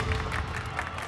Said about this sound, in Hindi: क्या ये सब लोग यहाँ ताली क्यों बजा रहे हैं?